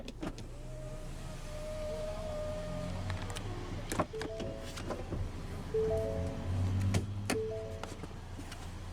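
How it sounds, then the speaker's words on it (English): Electric power window on the driver's door of a 2022 Ford Bronco Big Bend 4-door winding down, a steady close motor whir with a soft thump as the glass stops, inside a quiet vehicle. "But now we'll go ahead and roll down the driver's window"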